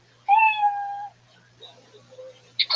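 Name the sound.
cat meow sound effect signalling time up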